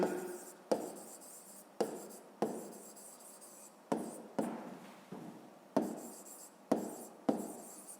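Pen strokes on paper while working through a school physics exercise, a steady run of short scratching marks with sharp starts, quiet and close, repeating in a regular rhythm.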